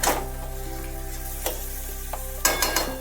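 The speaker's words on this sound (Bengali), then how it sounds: "ভালোভাবে এবার একটু নাড়াচাড়া করে নিতে হবে যাতে সমস্ত মশলা পুরো চিকেনের গায়েতে লেগে যায়।" Chicken pieces coated in spices sizzle steadily in a hot pan while a utensil stirs them, with a few sharper scraping clinks standing out over the frying.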